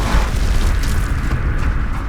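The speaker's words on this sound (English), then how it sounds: "the Hammer of Dawn is an orbital laser used for only the hardest to kill enemies" Hammer of Dawn orbital laser strike from Gears of War, a sustained deep booming roar with crackling, rumbling texture that stays loud and dense across the whole moment.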